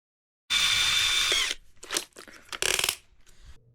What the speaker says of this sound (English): I was measuring the drill holes for the corner connections